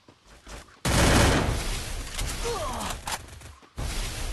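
A sudden loud burst of rapid gunfire in a video game starting after a quiet moment, continuing with scattered shots and a faint breathy voice before cutting off.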